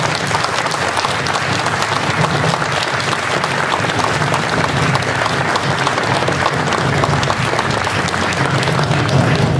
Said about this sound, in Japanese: 改めて丁寧な拍手をお送りくださいませ